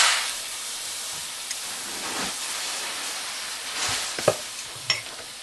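Canned ground beef tipped into a hot pan of softened onions, sizzling with a steady broad hiss and a few clinks and scrapes of a utensil near the end.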